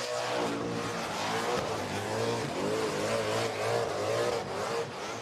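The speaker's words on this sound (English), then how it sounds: "That little small block is flying. Listen to that. Have a listen to the exhaust note" A small-block V8 burnout car at the Summernats car festival roars and revs hard and continuously, its loud exhaust note rising and falling through gear changes, with no pauses.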